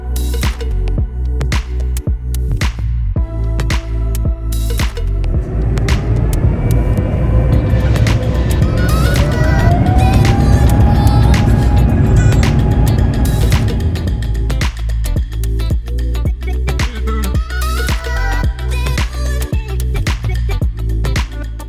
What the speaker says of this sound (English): Well, there we go, for one last time airborne from Houston on Singapore